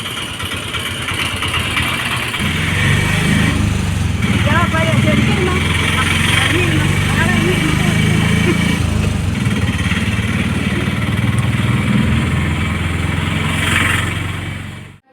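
A Kerala auto rickshaw's small engine runs steadily for most of the clip, a continuous low throb under occasional voices and background chatter.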